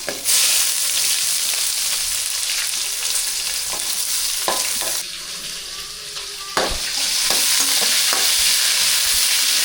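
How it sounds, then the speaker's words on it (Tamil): Onions sautéing in a hot pan for a Kadaknath black chicken curry with spices and curry leaves, a loud steady sizzle with stirring scrapes throughout, dipping briefly midway. "வெங்காயம் நல்லா வதங்கிடுச்சு"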